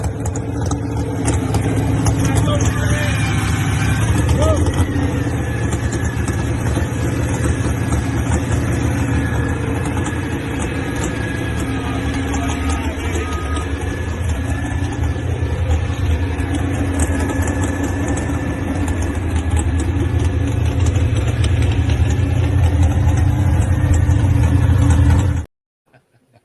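A tractor-pulling truck fires up in the rain and settles into a loud, steady idle, its deep engine rumble running continuously for about 25 seconds before cutting off.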